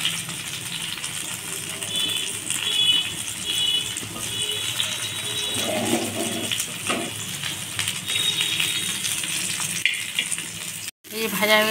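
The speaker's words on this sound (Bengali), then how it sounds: "এবার বাকিগুলো এরকম করে ভেজে নিচ্ছি" Stuffed pointed gourds (potol) filled with minced meat and potato sizzle steadily in hot oil, a close, continuous crackling fry that briefly drops out near the end before resuming.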